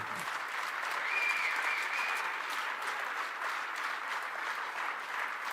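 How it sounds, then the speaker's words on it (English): Sustained applause from a large audience at a Save Texas political event fills the whole stretch at a steady, dense level, with no voices standing out above it. "a big applause to all of you"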